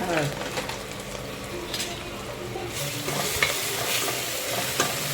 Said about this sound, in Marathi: हे चांगलं ढवळून घ्यायचं, मिक्स करून.